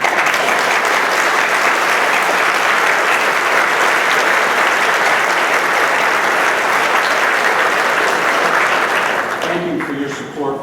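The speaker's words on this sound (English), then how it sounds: "Let us give a round of applause for Senator Richard Lugar and Congressman Chris Van Hollen." Loud sustained applause from a large audience at the Foreign Service and AFSA 90th anniversary dinner, a dense continuous roar of clapping that holds steady then tapers off, with a voice beginning to speak as it fades.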